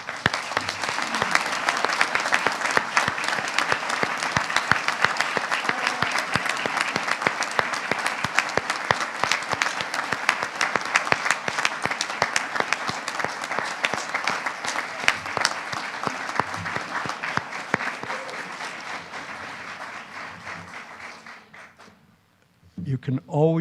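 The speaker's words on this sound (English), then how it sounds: "So I'd like for you all to applaud each other." Graduates and guests at a college commencement ceremony applaud one another in a long, full round of clapping that holds steady, then thins and fades out near the end.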